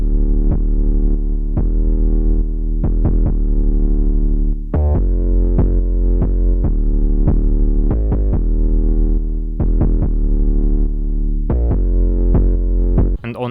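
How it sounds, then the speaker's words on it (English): Trap 808 bass made in Ableton with saturator distortion: a loud, deep, gritty sustained bass line pulsing with regular note changes and slides, punctuated by sharp percussive hits throughout. "808 we have some newfangled saturator, which gives this distortion and this punchiness"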